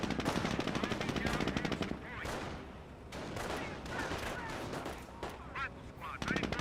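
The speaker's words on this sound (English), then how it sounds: "MG42 is set on up." An MG42 machine gun in Company of Heroes rattles off rapid bursts, with gunfire and battle noise around it, then breaks off before more fire at the end; a voice speaks briefly between the bursts.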